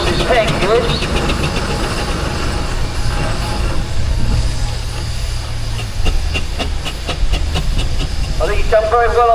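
The steam traction engine Hengist hisses steadily at a steam rally in a park arena, a loud broad rush close by, with voices talking over it and chuffing bursts near the end.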